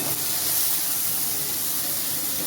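Chutney ingredients saute in a pan with a dense, continuous hiss of steam and sizzle, loud and even throughout the short stretch with no talk.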